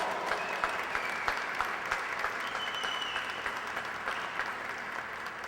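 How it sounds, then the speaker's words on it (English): A crowd applauds at an event in St. Louis honoring President Barack Obama, with steady, dense clapping that holds at an even level throughout, the noise of many hands blending into a continuous wash. "please put your hands together and let's give the Honorable President Barack Obama a round of applause"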